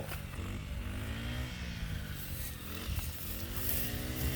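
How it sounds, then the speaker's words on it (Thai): A small two-stroke brush cutter drones steadily nearby, its pitch rising and falling slightly as it cuts through rice stalks at harvest. "พ่อใส่เครื่องตัดหญ้าตัดเข่า"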